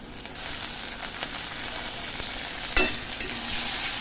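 Onions and green chilies frying in a hot pan, a steady close sizzle with occasional stirring scrapes and one louder clatter partway through, no voices.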